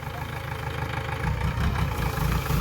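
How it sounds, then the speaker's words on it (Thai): A Kubota L4508 tractor rigged as a sugarcane loader idles with a steady, mid-low diesel rumble that swells slightly as it is shifted into reverse gear, close and continuous with no talking. "รถมันใส่เกียร์ยากจักน้อยครับ เกียร์ถอย"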